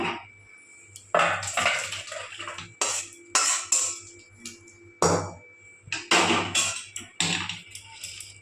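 A metal pot of jackfruit and shrimp curry is lifted off a stove, giving repeated loud clanks, scrapes and knocks of metal against metal in short irregular bursts.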